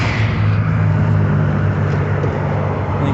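Constant loud rush of traffic on a freeway in Kennewick and Richland, Washington, with car after car passing close by and blending into a steady roar.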